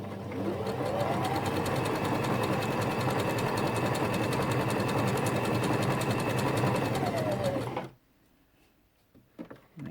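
A Janome FD206 sewing machine stitches a large zigzag with a rapid, steady mechanical chatter for about eight seconds. It then stops abruptly, leaving near silence and a few faint handling clicks.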